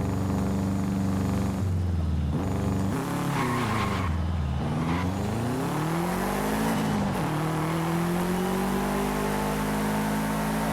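Heavy car driving in the racing game Forza Horizon 5, its engine revving up and down through gear changes with a steady, loud drone and sweeping pitch rises, no talk over it.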